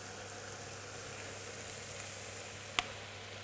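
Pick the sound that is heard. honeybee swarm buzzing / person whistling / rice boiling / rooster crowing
rice boiling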